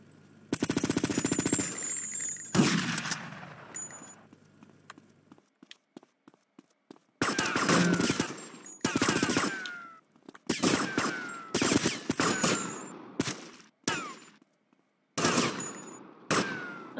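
Gang-war gunfire in GTA Vice City: bursts of rapid automatic fire and single sharp shots, loud and close, with several short volleys spread across the clip between quiet gaps.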